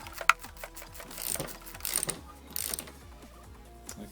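A 14mm socket ratchet winding off the preload on an Ohlins 30mm fork cartridge of a Honda CBR600RR motorcycle, a close, steady clicking ratchet with repeated turns and metallic clinks.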